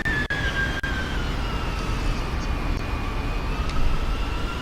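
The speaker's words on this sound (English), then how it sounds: "Nice, smooth landing." A Boeing 747 rolls out after landing with reverse thrust, a loud, steady broadband jet roar with a faint whine drifting downward in pitch, heard from inside the aircraft with no talking.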